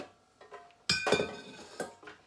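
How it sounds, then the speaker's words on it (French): Dry ingredients for a gluten-free keto brioche being stirred in a stand-mixer bowl: clinking and scraping of utensil against the bowl, a few sharp clanks amid softer rattling, close and alone. "Je vais mélanger dans mon bol batteur"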